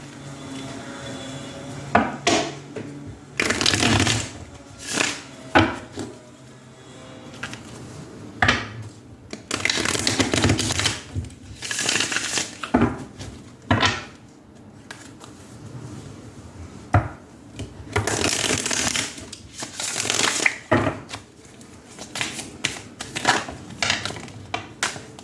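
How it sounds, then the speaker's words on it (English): Tarot cards are shuffled by hand in bursts of crisp riffling and slapping, close and fairly quiet, with short pauses between the flurries and no talking. "Now let's take a look at your tarot cards."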